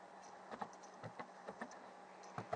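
Typing on a computer keyboard while entering a Linux terminal command, a quick, fairly faint run of clicky keystrokes in uneven bursts, with no talk over them.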